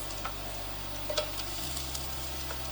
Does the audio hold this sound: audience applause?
no